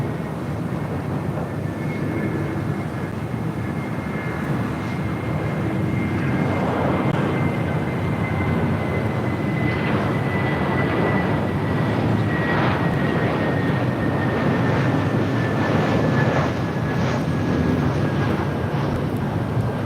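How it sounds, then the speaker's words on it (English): Delta Airlines Airbus A321 arriving, a steady jet roar with a faint high whine sliding slowly downward, moderately loud and gradually swelling as it nears; no one speaks. "This is Delta Airlines 913 coming in from Detroit on an A321."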